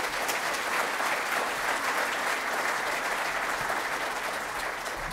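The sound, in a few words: audience applause for keynote speaker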